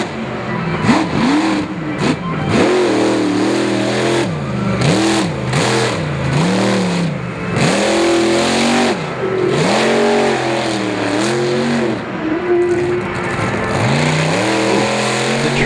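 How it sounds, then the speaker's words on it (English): Off-road truck at a fall 4-wheel jamboree nationals event in Indianapolis, its engine revving loudly and continuously with rising and falling pitch as the driver slides and throttles it up close. "The truck sliding there, like Kohler was trying to whip it into a donut, as we see right there"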